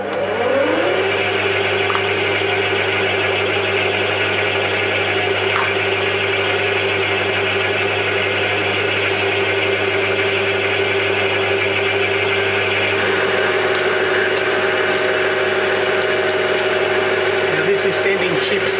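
A lathe turning at 600 RPM machines a chair ram, giving a constant loud whirring drone with a cutting whine and chips flying off. The tone shifts partway through, and a voice can be heard over the machine.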